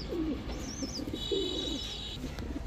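Pigeons at a pigeon farm coo softly in repeated low rolling phrases over a steady background hum, with a few thin higher chirps mixed in nearby.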